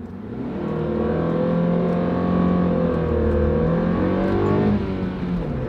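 A Nissan Sentra S pulls away in first gear, its engine giving a steady, loud droning note that holds and climbs slightly for several seconds with no talk over it.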